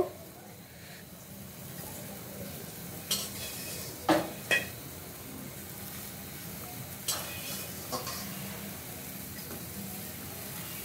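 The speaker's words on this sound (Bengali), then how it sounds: "দেখো মাছের ঝোলটা ফুটে উঠছে, ভাজা মাছগুলো দিয়ে দিব" Fish curry simmers in a pan as fried fish is added, a low bubbling, sizzling bed broken by a handful of sharp utensil clinks and taps against the pan.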